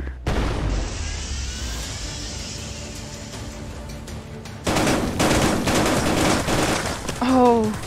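Gunfire in a virtual-reality shooter game: loud shots crack in rapid bursts, then a dense volley breaks out partway through, all up close with some voice and game noise mixed in.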